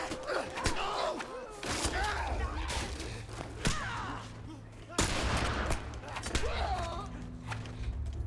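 Gunfire in The Last of Us Remastered, several sharp shots spread across the stretch, mixed with game voices and grunts over low rumbling background noise.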